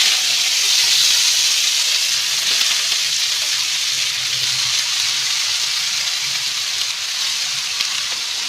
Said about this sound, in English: Now we'll add our sabji to it.